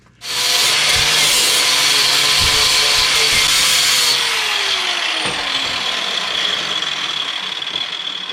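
An electric sander fitted with 40-grit abrasive runs loud and steady for about eight seconds, giving a coarse, continuous rasping whir with a few low knocks, and no voices.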